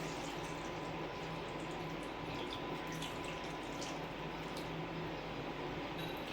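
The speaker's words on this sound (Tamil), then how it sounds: "இது கூடயே கொஞ்சம் நான் தண்ணி ஆட் பண்ணிக்கிறேன்." Water poured steadily into a pot of home-cooked fish curry gives a continuous soft, hissing splash with no breaks. It is fairly faint and nobody speaks over it.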